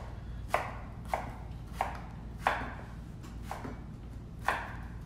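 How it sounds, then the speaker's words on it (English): A knife chops carrots on a cutting board, six distinct crisp chops in a steady, unhurried rhythm, close up and fairly quiet over a low background hum. "Okay, there's our chopped carrots."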